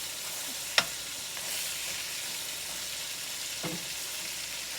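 Steak pieces browning in a pan over a fire, a soft steady sizzle at moderate distance, broken by two sharp metallic taps of a utensil.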